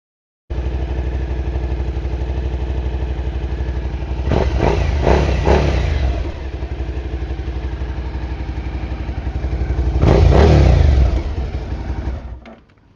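A 2026 Suzuki SV-7GX motorcycle with a single-outlet silencer idles steadily, then is revved twice in quick blips, idles again and gives one longer, louder rev before settling and cutting off.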